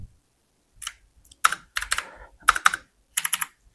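Quick bursts of keystrokes on a computer keyboard while C code is typed, close and crisp, coming in short irregular clusters separated by brief pauses, with no voice over them.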